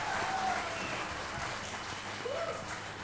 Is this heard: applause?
yes